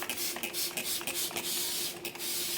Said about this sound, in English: Now what I want to do is a generous spray